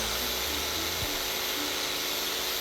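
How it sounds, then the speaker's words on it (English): A jigsaw rounds off the corner of a wooden windowsill being extended, giving a steady, unbroken buzzing rasp of blade through wood at moderate volume for the whole stretch, with no talking. "we're rounding it off with a jigsaw to make sure no one bumps their head"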